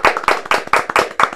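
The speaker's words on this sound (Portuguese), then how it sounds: "Salva de palmas para nossos amigos Lucas e Pablo Norberto." Several hands clap together in a quick, even rhythm, about six or seven sharp beats in a short burst, close and lively.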